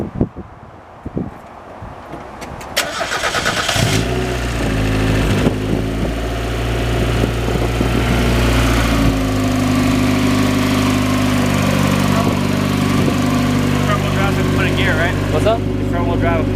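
A turbocharged Mazda Miata engine with a rebuilt Greddy turbo cranks with a few clicks, catches after about four seconds and settles into a loud, steady idle, with people talking over it.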